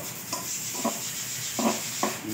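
Canned sardines sautéed in a pan, a low steady sizzle broken by several short, separate scrapes or knocks of a utensil against the pan.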